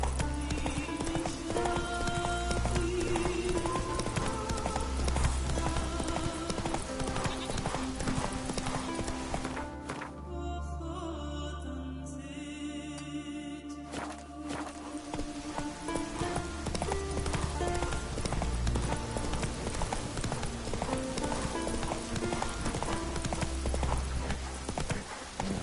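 Roach, a horse in The Witcher 3, gallops in a steady, rapid clip-clop of hooves over a dense game soundtrack, with a brief quieter break in the middle before the hoofbeats resume.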